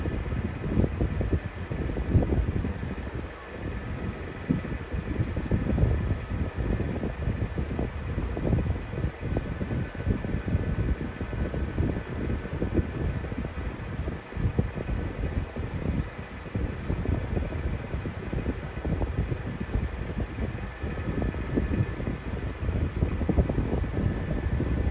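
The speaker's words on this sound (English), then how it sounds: "It's kind of making a strange noise, like the bearings could be a little dry." A 1991-92 Patton 12-inch high velocity fan runs steadily with dry bearings, giving a constant rushing airflow drone with a rough, fluttering mechanical texture. It sounds close and unbroken, with no voices.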